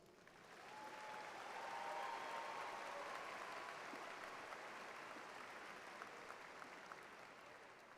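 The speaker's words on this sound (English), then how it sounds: "Please join me in extending another round of applause for our doctoral graduates." Sustained applause from a graduation ceremony crowd honouring doctoral graduates, swelling in the first second and then holding as a steady, dense wash of clapping at moderate distance for the rest of the stretch.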